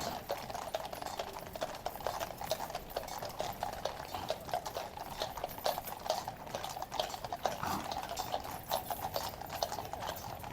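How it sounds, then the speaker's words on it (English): Horses' hooves clip-clop on a road in a brisk, continuous rhythm of many hoof strikes, fairly close and steady throughout, with no voices. "these horses are full of energy this morning"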